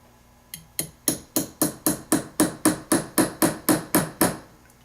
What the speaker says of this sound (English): So using the planishing hammer, I'm going to strike it on the top, right here,